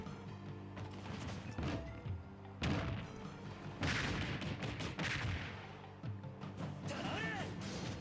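Bomb explosions and crashing impacts in Smash Ultimate gameplay, heard as dense, continuous bursts and booms layered over game music and effects, moderately loud throughout.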